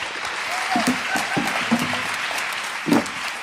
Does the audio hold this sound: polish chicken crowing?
no